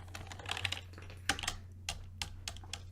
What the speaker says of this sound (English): Type the word starting.